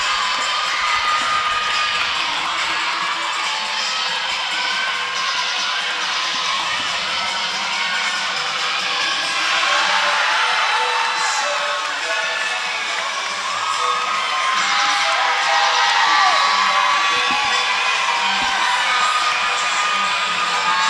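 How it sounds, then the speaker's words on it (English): The Augustana team cheers loudly at a gymnastics meet, a sustained crowd din of shouts, whoops and yells rising and falling through an echoing arena with no break. "See the Augustana team really cheering on the Baylor Bears as well."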